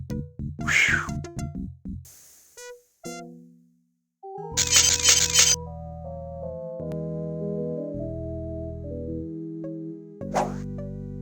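A cartoonish cat yowls in drawn-out, wavering meows amid plinking musical tones and a burst of crashing noise, loud and close, in the 1993 video game Day of the Tentacle.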